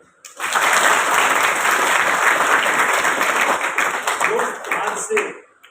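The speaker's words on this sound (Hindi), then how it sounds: "अपने लिए तालियां।" A classroom audience at an institute's spoken-English session bursts into loud, dense applause that starts abruptly, holds strong for several seconds, then tapers off with a few stray claps and faint voices near the end.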